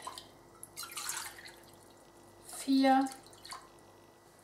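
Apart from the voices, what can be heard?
water poured into a pan, counted by cups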